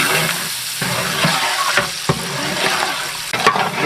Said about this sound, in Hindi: प्याज अच्छी तरह भून लेंगे।